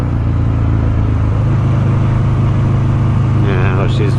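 A Buell motorcycle engine running close by, a loud steady rumbling drone held throughout, with a brief voice near the end.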